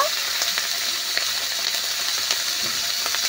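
Small pond shrimp frying with salt and turmeric in a pan, a dense, even sizzle with light pops and occasional stirring clinks, close and steady, no speech.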